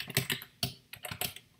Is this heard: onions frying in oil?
no